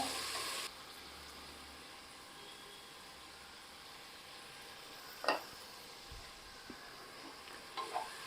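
Onions sautéing in a pressure cooker for prawn biryani give a steady low sizzle, faint and close, with a few soft stirring knocks near the end.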